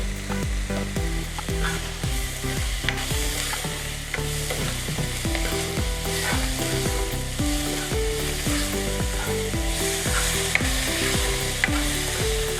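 Sewali (night jasmine) flowers stir-fried with turmeric and salt in a pan: steady, close sizzling with a repeated rhythmic scraping and clinking of the spatula against the pan, with no talking.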